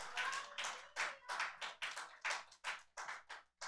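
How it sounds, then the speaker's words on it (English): A church congregation claps in a steady rhythm during a Sunday service, about a dozen loud, even claps over a few seconds with no talking. "Give the Lord a clap offering"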